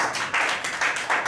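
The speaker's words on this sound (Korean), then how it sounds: "박수 한번 치고 싶지 않습니까?" Short bursts of clapping from a lecture audience, a few quick pulses of hands that rise and fall over a moment without talk.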